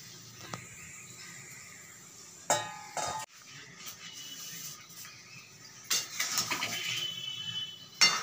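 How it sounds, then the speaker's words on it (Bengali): A spoon stirring food in a cooking pot on low heat, with scattered metallic clinks and scrapes against the pot separated by quieter stretches, close by and with no voices. "ভালো করে নেড়ে দিলাম"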